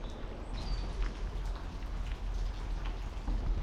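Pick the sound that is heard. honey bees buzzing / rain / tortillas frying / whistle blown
rain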